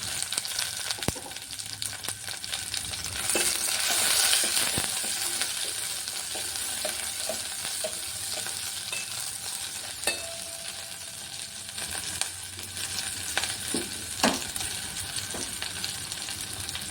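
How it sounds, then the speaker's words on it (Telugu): Mustard seeds, cumin and chopped green chillies frying in hot oil for a chutney, a continuous loud sizzle with scattered pops and crackles and occasional scraping of a spoon, with no speech. "ఆయిల్ హీట్ అయిన తర్వాత ఇందులో కొద్దిగా ఆవాలు అలాగే కొంచెం జీలకర్ర వేసుకోవాలి తర్వాత మనం కట్ చేసి పెట్టుకునే పచ్చిమిర్చిని కూడా వేసుకొని వేయించుకోవాలి"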